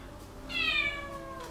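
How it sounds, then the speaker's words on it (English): A cat gives a single whiny meow in a home workshop during a carbon fibre fixed-gear bicycle build, a faint rising-and-falling cry at moderate distance. "More cat whinging."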